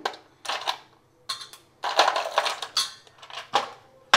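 Ice cubes drop into tamarind water for bandi-style pani puri, landing in several separate clinking, splashing bursts with brief pauses between them, fairly close and with no talk.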